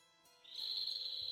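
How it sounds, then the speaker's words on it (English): In the desert of the video game Tales of Vesperia, a single bird call rings out as a thin, high, sustained whistle, fairly quiet and heard alone. "A bird?"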